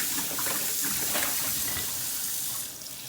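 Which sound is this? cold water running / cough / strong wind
cold water running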